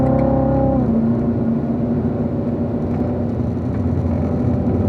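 A car driven hard on the Spring Mountain track upshifts into fourth gear: a loud, close engine note drops sharply at the shift, then settles into a steady, strong drone.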